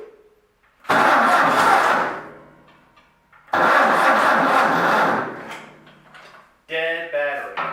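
An old amphibious Ford tractor engine cranks on a dead battery, heard as two long, loud grinding cranking bursts that sag and die away, then a brief stuttering attempt, close up with no talking.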